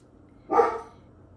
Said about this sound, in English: is now barking at the mailman